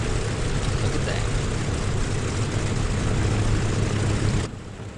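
Engine number three of a DC-6 airliner spins up in Microsoft Flight, a steady low propeller drone that holds before dropping away abruptly near the end.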